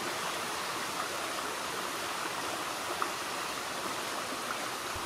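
Water rushes steadily over a weir beside a mill race on a hiking trail near Leubsdorf, a constant broadband roar with no talk.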